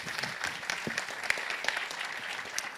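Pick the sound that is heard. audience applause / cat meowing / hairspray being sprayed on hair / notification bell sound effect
audience applause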